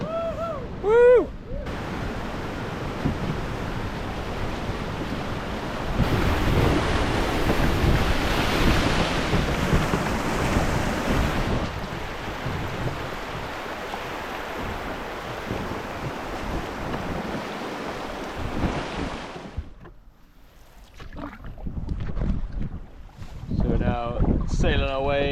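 Wind and moving water around a canoe on a Scottish river, a steady broad rush of gusts and splashing that swells loud through the middle, drops away briefly near the end, then returns with faint voices.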